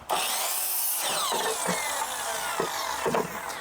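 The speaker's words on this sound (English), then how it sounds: "So I've got my miter saw set up here." A miter saw cuts 2x2 lumber, giving a loud, continuous high whine with a few brief bursts as the blade passes through the wood.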